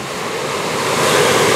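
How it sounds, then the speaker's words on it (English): A strong wind gust from Hurricane Sally roars as dense broadband rushing noise, building slightly louder toward the end, with no voices. "Ooh, hear that gust?"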